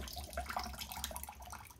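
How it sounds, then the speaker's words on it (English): Water runs into a utility room sink to fill it a couple of inches deep, a steady close splashing hiss with small bright spatters and no talk. "So I go out to the utility room and run a couple of inches of water in the sink."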